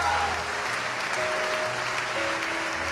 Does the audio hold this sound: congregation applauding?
yes